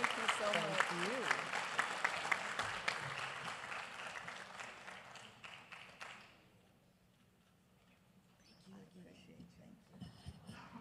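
Audience at a Los Angeles County Board of Supervisors meeting applauds warmly, loud clapping that fades out about midway. Quiet room noise and faint movement follow.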